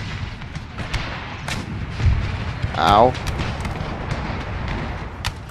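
Cannon artillery fire in an Empire Total War battle, booming shots spread through a continuous din of gunfire, with one louder thump near the middle and a brief vocal yelp over it.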